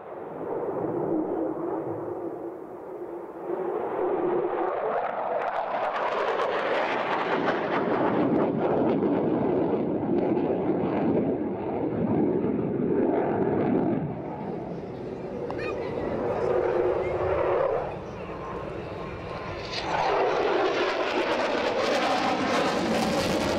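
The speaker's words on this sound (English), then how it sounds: "Team Zeus uses an F-16C Block 52 Plus aircraft" A Hellenic Air Force F-16C Block 52 Plus fighter with conformal fuel tanks performs a flying display at an air show, a loud continuous jet roar that rises and swells, with a voice talking over it.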